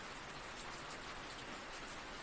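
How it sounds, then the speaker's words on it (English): Heavy rain pours steadily outside a forest cabin, a dense, even hiss of downpour with no other sounds. "Through them you could see the rain falling in sheets now, the forest beyond blurred and softened by the downpour."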